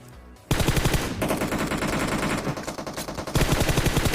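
Video game gunfire crackles in rapid automatic bursts, loud and close, with a short pause before another sustained volley.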